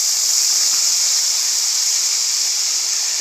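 Chopped tomato hitting a hot pan of fried prawns gives a steady, loud sizzling hiss that holds evenly throughout, with no voices.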